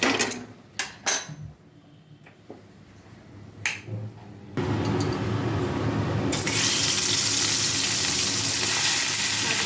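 Fish pieces rubbed with salt and turmeric drop into hot oil in a wok on a gas stove. After a few light taps, a loud, close sizzle bursts in and keeps hissing steadily to the end.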